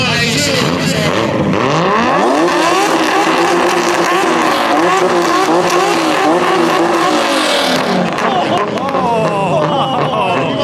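Loud car engines, including a Nissan R32 and a Honda NSX, rev and roar up and down continuously in a rev battle at a car show, pitch sweeping higher and lower, with crowd voices mixed in underneath.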